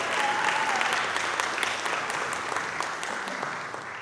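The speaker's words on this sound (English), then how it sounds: "I think they really deserve a round of applause right now." A church congregation at Sunday worship claps for the choir and musicians, steady dense applause that stays fairly even throughout the short stretch, with a faint voice briefly audible at the start.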